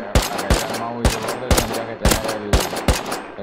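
Bursts of rapid gunfire in the video game Rust during a raid, several volleys of sharp shots in quick succession, loud and close with brief gaps between them.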